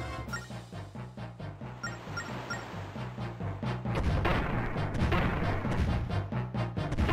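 Ship cannons firing during a boat boss fight in The Legend of Zelda: Phantom Hourglass, rapid repeated booming shots over game music, growing denser and louder partway through.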